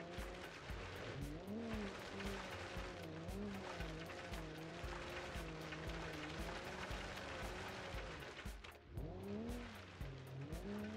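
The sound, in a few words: 1970s land yacht car engine under throttle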